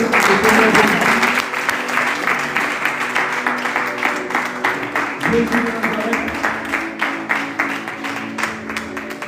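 Church congregation applauding together during a worship service, a dense, steady wash of many hands clapping that starts loudest and carries on evenly, with some voices mixed in.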